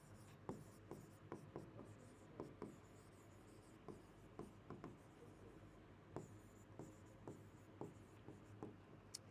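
A pen writes on paper or a board in a quiet room, making soft, close scratchy strokes and taps in an irregular rhythm for several seconds with no voices.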